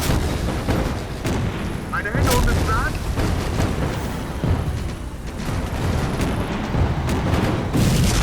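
Booming artillery fire in the strategy game War Front: Turning Point rumbles continuously with sharp blasts, while a voice speaks over the barrage.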